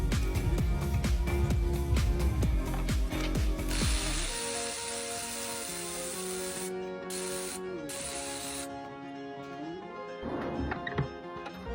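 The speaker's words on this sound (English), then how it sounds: "Loosen spark plugs, grab an electric ratchet." Electric ratchet working spark plugs loose on a 2014 Honda Accord: a dense, rapid clicking whir in the first four seconds, then a steadier motor drone with a high whine, cutting out briefly before a short final burst.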